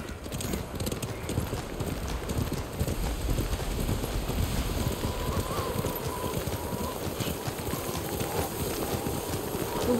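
Hoofbeats of a horse galloping through snowy wind in Ghost of Tsushima, a steady rapid clip-clop rhythm running continuously at moderate loudness with a faint whinny and no talk.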